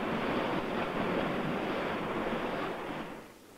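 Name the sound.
ocean waves crashing on the shore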